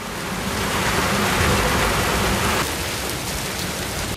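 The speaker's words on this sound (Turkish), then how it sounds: "Ardahan'da etkili olan sağanak yaşamı olumsuz etkiledi." Heavy downpour during a storm in Ardahan, Turkey: a loud, dense, continuous roar of rain pouring on surfaces, steady throughout with no voices.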